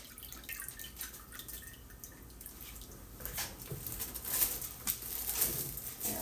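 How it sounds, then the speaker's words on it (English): Cooked ground beef being poured back into a crock pot fitted with a fresh liner, heard as soft wet sloshing and dripping that grows louder and busier in the second half, with no talking. "And then I'm going to pour the beef back into this spot."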